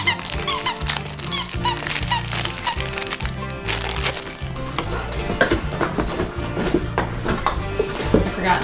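A squeaky dog toy squeaks over and over in quick, sharp bursts, close and loud, amid busy clattering handling noise with no clear talking.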